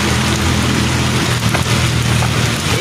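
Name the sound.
heavy rain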